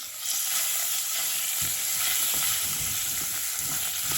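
Minced meat sizzles in a hot pan in a home kitchen, a continuous close crackling hiss with occasional stirring scrapes and no talk.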